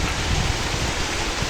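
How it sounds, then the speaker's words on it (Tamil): Heavy rain pouring down steadily, a dense continuous hiss of falling water, close and moderately loud with no voices over it. "அங்க பாரு, செம்ம மழை பெய்யுது."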